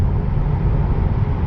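Cabin of a BMW 330e iPerformance cruising on the highway, a steady low road and tire rumble with even wind hiss and no talking.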